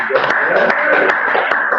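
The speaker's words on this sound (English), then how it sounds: "it's a big clap" A crowd claps steadily and continuously, a dense patter of many hands applauding together.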